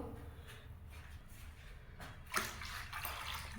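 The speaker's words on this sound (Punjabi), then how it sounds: "ਹੁਣ ਇਹਦੇ ਵਿੱਚ ਆਪਾਂ ਪਾਣੀ ਐਡ ਕਰ ਦਵਾਂਗੇ" Water pours into a golgappa pani mixture, a steady broadband wash that swells with a sharp splash around the midpoint and continues rushing to the end, close and fairly loud, with no talk.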